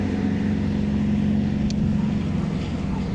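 Heavy trucks rumble past in steady, loud traffic, a constant low engine drone filling the whole stretch with no voices heard.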